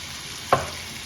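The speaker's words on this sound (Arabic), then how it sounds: "هكا نسخنه في المقله وكل بالزبده" Tuna meat hits a hot frying pan with butter, giving one quick sharp sizzle burst that fades into a soft, steady frying hiss, close and alone without talk.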